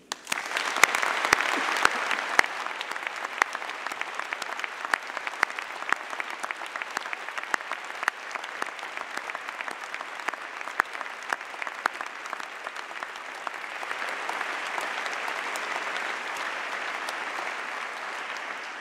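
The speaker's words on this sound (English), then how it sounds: "I'd like to ask you in a moment for an enormous round of applause" Large ceremony audience claps in sustained applause for nearly twenty seconds, a dense, even patter with a few sharper individual claps standing out early on.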